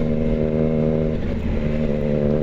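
Triumph Tiger Sport 660 motorcycle engine running steadily while riding, a loud close harmonic drone with a slight dip and wobble partway through, no talking.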